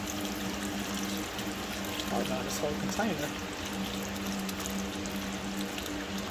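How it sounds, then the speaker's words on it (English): Swanson beef broth pours steadily from a 32-ounce container into a pot with a soft splashing gurgle while a person speaks briefly over it. "now we're gonna add in some beef broth"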